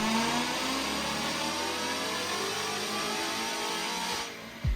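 A Ford Mustang GT running on a dyno, its engine holding a loud sustained high-rev roar close by that climbs steadily, then cuts off abruptly near the end.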